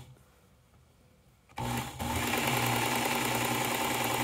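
A belt grinder with a coarse belt spins up from quiet and settles into a steady, close whir and rasp while sharpening a CPM Magnacut Hogue Deka knife.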